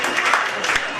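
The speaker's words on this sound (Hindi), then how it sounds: "अभी आप लोगों को बहुत अच्छा लगेगा जब आप तालियां बजाएंगे" An audience at an annual dinner and award ceremony claps in a dense, continuous patter of applause, fairly loud and close, lasting about a second.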